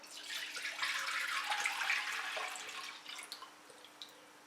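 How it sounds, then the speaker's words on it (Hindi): Milk poured into a pan on a lit stove for custard, a steady liquid pour lasting a few seconds before trailing off into a few faint drips. "पैन में डालेंगे 1 लीटर दूध"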